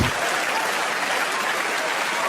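Dense applause from a theatre audience at a live stand-up comedy show, a steady loud wash of many hands clapping throughout.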